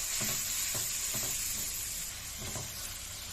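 Salt, turmeric and chilli powder fry in a pan for a vegetable-and-prawn curry, giving a steady sizzle with a few soft scraping stirs over it, close and fairly quiet, with no talking.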